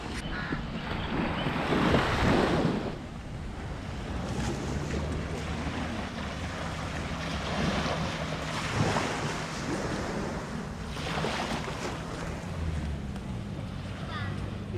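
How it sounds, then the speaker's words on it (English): Ocean waves wash steadily onto Miramar Beach in Goa under gusting wind that buffets the microphone, with a person talking over the surf. "After a long time, we finally came on a beach. This is the famous Miramar Beach."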